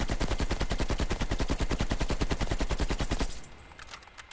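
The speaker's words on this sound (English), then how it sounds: "Now, if we test out the recoil for the AK," An AK assault rifle fires in the video game Black Ops Cold War, a rapid, steady burst of loud, evenly spaced shots for about three seconds that stops abruptly, leaving a short decaying tail.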